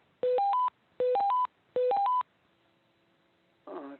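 Three quick bursts of rising telephone tones on a conference call as callers join, each a crisp three-note chime, followed by a faint hum and a brief muffled noise at the end.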